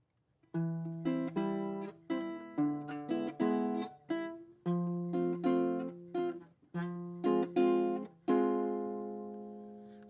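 Fingerpicked baritone ukulele plays a somber minor chord progression, bass note then upper strings in a steady pattern, closing on a chord left to ring out.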